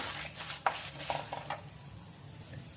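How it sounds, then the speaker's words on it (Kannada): Dry red chillies frying on a low flame for curry leaf chutney powder, a faint steady sizzle with a few light stirring scrapes and clinks of a pan early on. "ಸೊ ಇದೆಲ್ಲ ಸ್ವಲ್ಪ ಸಿಮ್ಮಲ್ಲಿ ಇಟ್ಕೊಂಡು ಫ್ರೈ ಮಾಡ್ಕೊಳ್ಳೋಣ"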